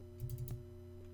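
Fingers tapping a few quick keys on a calculator, a short burst of soft clicks followed by one more tap, quiet and close against a faint steady hum.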